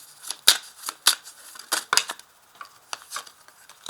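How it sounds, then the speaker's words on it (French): Tarot cards are laid down one after another, making close, crisp slaps and papery flicks in an uneven rhythm, some loud and some soft, with no voice over them. "Donc je vais ajouter les cartes ici."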